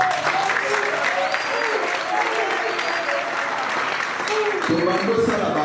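Sustained applause from a crowd at a Congolese political gathering in honour of Makasi, steady dense clapping with some cheering throughout, swelling slightly near the end.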